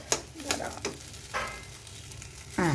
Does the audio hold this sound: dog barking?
no